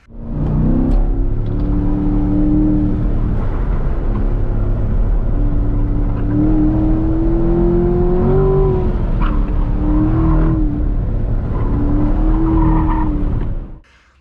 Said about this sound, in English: the car has had multiple slides as I'm wrestling for grip around the track